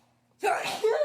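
A single sharp human sneeze, close and loud, bursting out after a brief near-silent pause.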